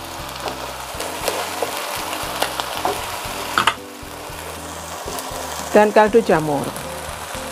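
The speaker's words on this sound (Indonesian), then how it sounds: "Ditumis-tumis sampai bumbunya matang, sampai harum ya aromanya." Spice paste for crispy tempeh and potato stir-frying in a wok, a continuous close sizzle with scraping spatula strokes and a few sharp metallic clanks, while someone talks over it.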